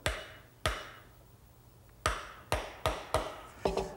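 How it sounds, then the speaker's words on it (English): A mallet tapping a lathe spur drive into the end of a wooden workpiece: six sharp, close knocks at irregular intervals, the later ones coming in a quicker cluster, each ringing briefly in a quiet workshop. "I want to set that just using a mallet."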